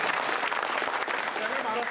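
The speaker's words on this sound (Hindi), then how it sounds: "ताली बजाओ।" A large crowd at an outdoor election rally claps in dense, continuous applause that stays loud and even for the whole stretch.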